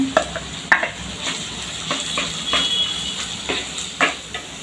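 Smashed potatoes with red chilli and salt being stirred into a hot pan for a crispy wheat-flour snack, a few soft scraping strokes over a steady low sizzle, close with no talking.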